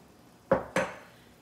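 Two quick metallic knocks of a measuring cup being scraped against a pot while making an Epicure sweet and sour chicken stir-fry, close and distinct, followed by a brief ringing decay.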